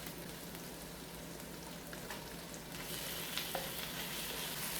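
Beef sizzles in a pan, a steady crackling fry that stays even, then grows a little louder and brighter partway through, with no talk.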